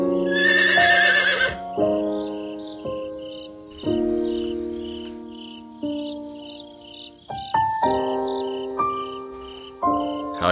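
A horse whinnies in the farming video game Doraemon Story of Seasons, one short bright neigh at the start followed by looping game music with steady chirping in the background.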